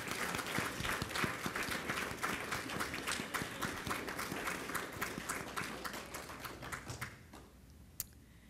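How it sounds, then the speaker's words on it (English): Guests applaud at a U.S. Air Force retirement ceremony for a senior master sergeant, with a fairly quiet, sustained patter of many hands that thins out toward the end, where a single clap stands out. "Ladies and gentlemen, let's just do one more round of applause."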